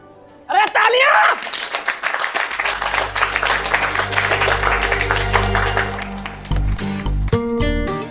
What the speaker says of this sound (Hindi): अरे तालियां!